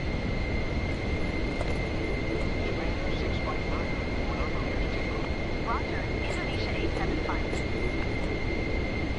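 A Pilatus PC-24 jet taxis in Microsoft Flight Simulator 2024, its engines giving a steady, even whine and rumble with a high tone held throughout, while a voice talks over it.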